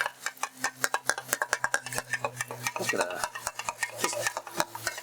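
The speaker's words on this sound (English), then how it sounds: "We're gonna scramble them." Eggs scrambled on a Blackstone flattop griddle outdoors, with quick, regular metallic scraping and tapping of a spatula over a low sizzle, and someone talking briefly in the middle.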